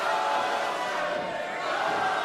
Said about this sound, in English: The crowd firmly behind Omen right now.